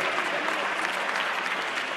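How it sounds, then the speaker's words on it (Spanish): Applause from a crowd at a frontenis doubles final in Querétaro, a dense, steady burst of clapping lasting about two seconds without pause. "Daniel Salvador Rodríguez Machilito, para que quiero un fuerte aplauso"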